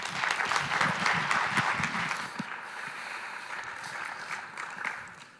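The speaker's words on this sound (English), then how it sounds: "give them a big round of applause" Audience applause at a startup accelerator pitch event, a full burst of clapping from the crowd that swells, then settles and trails off over several seconds.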